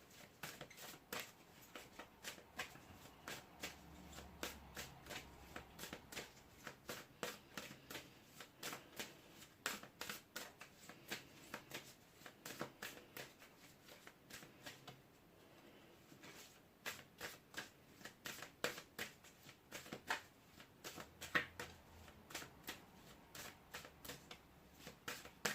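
A deck of tarot cards shuffled close-up and quietly, with a continuous run of fast riffling flutters and soft card slaps lasting the whole stretch and no voices.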